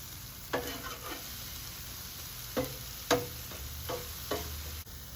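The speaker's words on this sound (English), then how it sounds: "if I'm not getting quite the sizzle that I think that I need, I just add a little more oil on there" Tofu and sausage sizzle in oil on a Blackstone griddle during a stir fry, a faint steady hiss broken by a few sharp spatula clacks.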